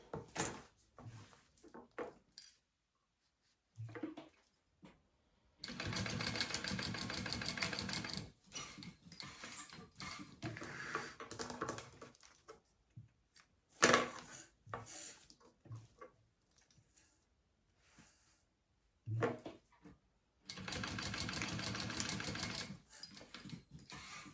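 Sewing machine basting down the handle of a mini backpack, running in several bursts of rapid stitching, close and fairly quiet, separated by pauses with small handling clicks.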